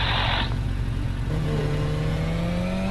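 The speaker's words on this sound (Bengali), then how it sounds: "দেখো তোমাদের ভাই কত সুন্দর বাইক চালাচ্ছে" Motorbike engine in the racing game Gran Turismo 5 revs with a smooth, rising whine over a constant low rumble, holding a steady tone after an initial burst of hiss.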